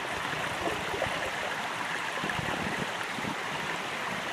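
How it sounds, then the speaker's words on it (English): Creek water rushes and gurgles in a constant, fairly soft wash of noise, with no voices. "First I'm just going to collect some water out of this creek."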